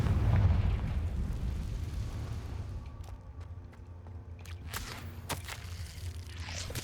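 A Confringo explosive spell blast in Hogwarts Legacy goes off as a heavy, rumbling boom at the start and fades into ambience. Sharp pops and clicks follow a few seconds later, with no voices.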